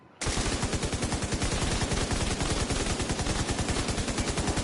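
Rapid automatic gunfire from a fast-reloading weapon in The Division 2 on PS5, a loud sustained stream of evenly spaced shots that starts abruptly and runs without pause to the end.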